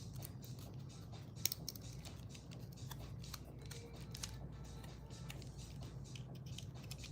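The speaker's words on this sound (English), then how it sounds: "trim that vinyl as close as we can to the acrylic blank" A sharp craft blade trims vinyl close around an acrylic blank, giving soft, irregular scraping and slicing strokes close up with a few small ticks, no talking.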